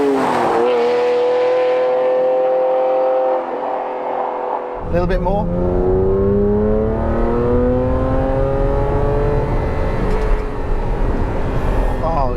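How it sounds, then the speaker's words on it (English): Ferrari F512 M Testarossa flat-12 engine idling then revving hard, the pitch sweeping upward through rising harmonics, loud and close, with a brief spoken remark early on. "This is what a Ferrari should sound like."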